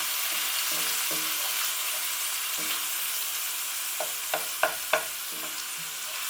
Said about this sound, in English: Frozen garlic and ginger tend to dissolve and distribute fairly quickly in a hot pan.